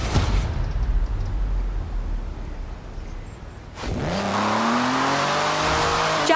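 A Jaguar car in Forza Horizon 4, British Racing Green, first rumbles low and steady, then revs up sharply with a rising engine whine and brief tyre squeal, loud and close with no talking.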